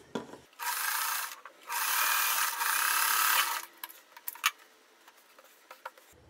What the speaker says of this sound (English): Now I will just sew these together.